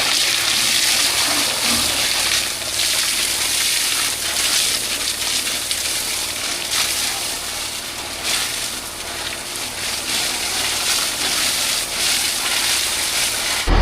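Water sprays steadily over a rice combine harvester being washed, a loud continuous hissing gush with slight surges, close up and without talk throughout.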